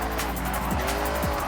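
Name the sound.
car tires squealing while drifting, Forza Horizon video game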